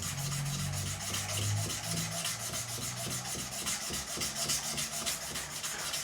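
Abrasive paper rubs back and forth over the fret ends of a 2005 Gibson Les Paul during a refret, producing a steady, rhythmic scratchy scrubbing that continues throughout at close range.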